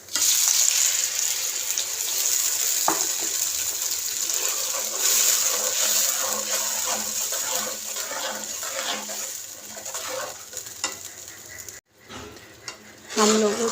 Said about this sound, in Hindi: हम लोगों ने इसमें टमाटरों का पेस्ट डाल दिया।